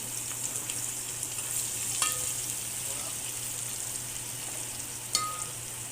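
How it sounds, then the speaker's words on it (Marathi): Tomatoes with half a spoon of turmeric sautéing in a pan for a spicy green goat-head curry, giving a steady soft sizzle with a few brief stirring clinks, close up and without talk. "टोमॅटो परतून झाल्यावर आपल्याला यामध्ये अर्धा चमचा हळद टाकून परतवून घ्यायचा आहे"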